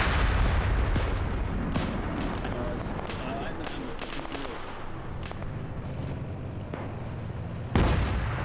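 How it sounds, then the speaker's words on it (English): A tank firing in a combat video game, heard as a series of sharp, booming cannon shots and explosion cracks over dense battle noise, with a louder blast near the end. "That was the tank firing, actually."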